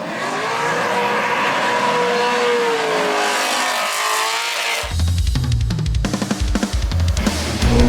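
A drifting car's engine revs and whines with rising and falling tone, then cuts to a harsher, choppy burst of loud mechanical noise and rapid crackles for the last few seconds.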